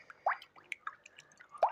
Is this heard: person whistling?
no